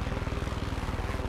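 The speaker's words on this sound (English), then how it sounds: "This is kind of awesome, just to drive a helicopter around and have you jump out and grab it." A helicopter flies in the video game Far Cry 6, its rotor giving a steady, fast, rhythmic thudding chop at moderate level with no talk over it.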